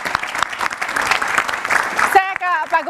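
Loud applause for a speaker at a political gathering, dense clapping that cuts off abruptly near the end as a voice begins speaking.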